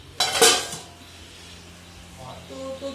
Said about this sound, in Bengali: দুজনের তরকারি দিয়ে দিচ্ছি, ঠিক আছে?